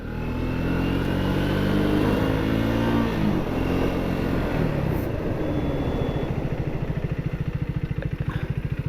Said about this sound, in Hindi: ख़ास करके इसका एक्सेलरेशन और इसका टॉर्क मुझे बहुत ज़बरदस्त लगा है भाई इस बाइक में